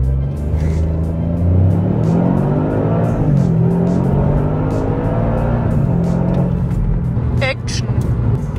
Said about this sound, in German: Und dann schießt die Kiste los und schaltet da ihre Gänge durch und dann fliegt ihr nach vorne.